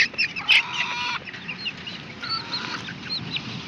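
Chickens cluck and squawk close by, a short burst of agitated calls followed by softer clucking over a quiet background.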